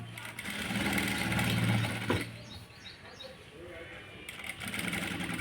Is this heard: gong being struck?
no